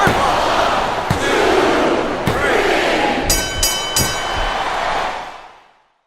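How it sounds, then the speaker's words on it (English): A wrestling arena crowd in WWE Smackdown vs Raw 2007 roars loudly and continuously, punctuated by sharp slams and impact hits, before the noise fades out abruptly at the end. "Would you listen to that crowd?"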